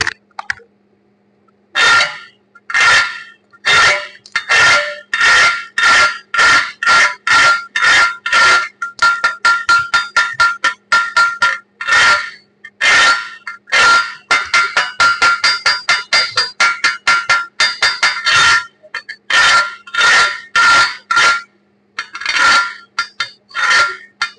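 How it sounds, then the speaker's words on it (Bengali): A hammer chips slag off an FCAW 3G weld with sharp metallic raps, alone and close, first in spaced single strikes and then in fast, dense bursts of tapping across the stretch. "তো আমি এখন স্ল্যাগটা ফালাবো, তো দেখেন আসলে কেমন হচ্ছে ওয়েল্ডিংটা"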